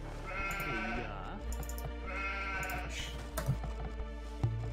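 Sheep in Age of Empires bleat twice in short wavering calls, clear and up front over quiet game sounds and soft clicking, with no talk.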